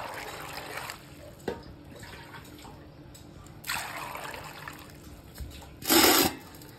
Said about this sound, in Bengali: প্রথমে আমি আমলকিটাকে ধুয়ে নেব, জল দিয়ে ভালো করে ধুয়ে নেব।